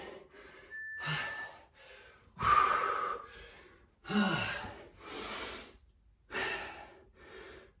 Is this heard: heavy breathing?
yes